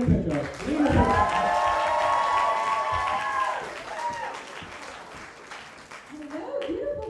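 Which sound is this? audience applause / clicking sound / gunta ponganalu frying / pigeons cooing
audience applause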